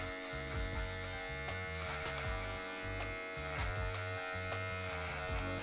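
Electric hair clippers buzz continuously and close up during a men's haircut, with a steady motor hum and a rhythmic, pulsing drone as they move through the hair.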